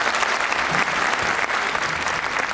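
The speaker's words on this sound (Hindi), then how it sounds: "एक बार तालियां बजा करके माहौल दीजिए" Dense, loud applause from an audience at a Hindi poetry recital, continuous clapping throughout with no pauses and no talking.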